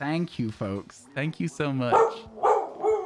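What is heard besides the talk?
dog barking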